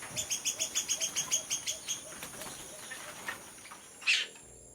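A Tanimbar cockatoo, in its Indonesian island habitat, gives a fast run of about a dozen sharp, rhythmic calls, then scattered fainter notes and a single louder screech near the end, heard without speech.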